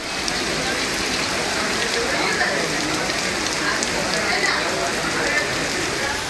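Heavy rain pours in a thunderstorm with lightning, a dense, loud, continuous roar of rainfall, close and unbroken, with no distinct thunder clap standing out.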